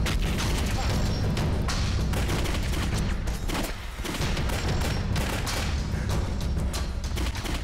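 Sustained gunfire and fusillade bursts in a Chinese war film about the resistance against Japan, loud dense volleys with booms running continuously through the whole stretch, with shouting voices mixed in.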